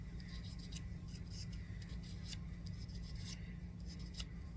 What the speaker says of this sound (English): Might have to grab a different sandpaper because this one's getting clogged up with the